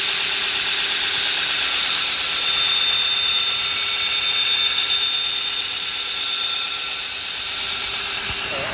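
Belt grinder grinding a knife blade against the abrasive belt, a continuous high whine and steady rushing hiss with slight swells in loudness throughout.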